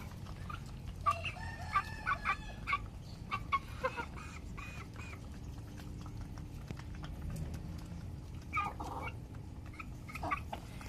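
Several native chickens cluck in bursts while a rooster crows a few times, with steady farmyard background noise throughout.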